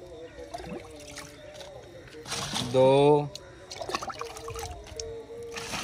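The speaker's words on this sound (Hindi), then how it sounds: "6 गिलास हम पानी डाल लेंगे इसमें।" Water poured by the glassful into a small tank while preparing a powder spray mix, heard as a short splashing pour midway through, with people talking around it.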